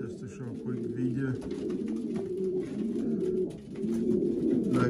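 Racing pigeons coo steadily at close range in a London loft being readied for a race, their low throaty calls layered and continuous, with a person talking over them.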